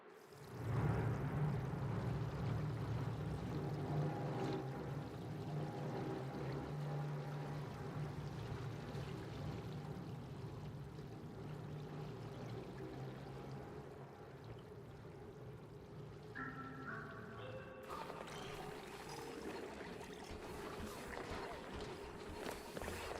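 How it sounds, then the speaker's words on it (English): A water geyser erupting in the colony-building game Oxygen Not Included, a steady close rushing gush of pouring water running continuously with bubbling texture, shifting slightly near the end, with no talking. "We need to deal with this water geyser."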